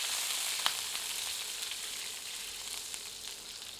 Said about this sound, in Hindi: फिर इसमें 4 से 6 करी पत्ता डालकर भून लेते हैं।